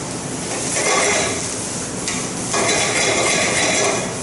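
Green onion and onion stir-fried in a pan, a steady dense sizzle with scraping stir strokes throughout, fairly loud and close, no voices.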